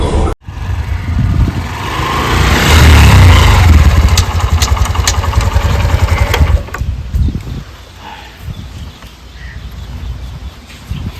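A new tractor's engine runs loud and close, with a sudden start followed by a rough, steady idle that gradually eases off toward the end.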